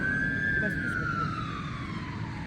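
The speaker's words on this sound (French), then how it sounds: "C'est l'ambulance." Ambulance siren with a single long wailing tone that rises and then slowly falls, heard continuously and fairly prominently over steady background street noise.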